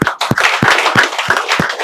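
Students give a short round of claps in a classroom, about six sharp, evenly spaced hand claps close by, loud and crisp against a quiet background.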